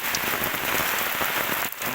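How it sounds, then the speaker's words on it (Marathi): Monsoon rain falls in Kerala in a steady, dense patter that fills the whole stretch, close and loud, with no voices. "हा बघा मस्त केरळमध्ये मान्सून चालू झाला आहे"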